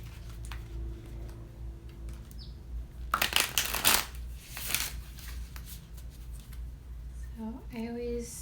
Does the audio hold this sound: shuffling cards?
yes